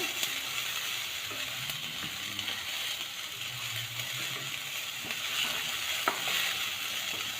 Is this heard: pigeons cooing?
no